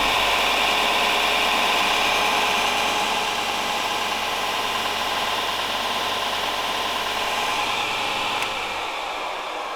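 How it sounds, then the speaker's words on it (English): A Harbor Freight 6x48 inch belt sander upgraded with a 3HP 220-volt motor runs at full speed, a loud steady whir with abrasive belt noise that holds throughout. "That is as fast as you can possibly imagine a belt sander starting."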